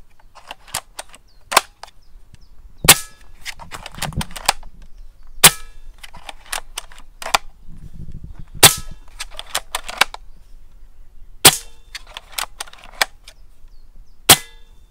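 A Reximex Regime bullpup PCP air rifle fires shot after shot, each sharp crack followed by mechanical clicks of the side lever and magazine cycling, repeating in an irregular rhythm at close range.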